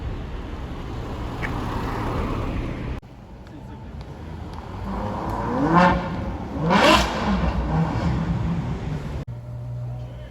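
A Ferrari 599 GTO passes on a Paris street, its engine swelling as it nears and fading away, with two loud surges in the middle over steady traffic rumble. Faint voices murmur in the background.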